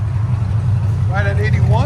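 A 2008 Chevy Corvette Z06 with a 7.0L V8, Kooks headers and a shotgun cat-back exhaust idles with its valves open, a deep, steady, close-up rumble, while a voice speaks over it near the end.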